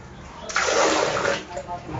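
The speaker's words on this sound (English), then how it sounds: "But to flush, a little water." Water poured by hand to flush a squat toilet at a gas station in Cambodia makes a short, close splashing gush that swells and then trails off into a trickle.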